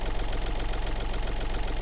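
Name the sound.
mini tractor engine idling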